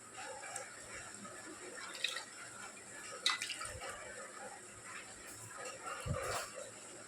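Water poured and splashed in a bowl while washing the scales off a catla fish, soft irregular splashes and drips with a few louder sloshes, fairly quiet and close.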